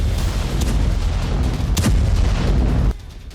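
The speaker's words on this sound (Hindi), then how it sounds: "ईरान में फिलहाल जो धमाके हो रहे हैं उनके पीछे भी इजराइल ही है।" Explosions in Iran captured in news footage, a dense, continuous rumbling barrage of heavy booms with a sharper blast near the middle, loud throughout, then cutting off abruptly into quiet background.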